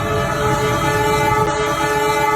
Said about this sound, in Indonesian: Ternyata ada parade 4 lokomotif dalam rangka perayaan ulang tahun KAI ke-79.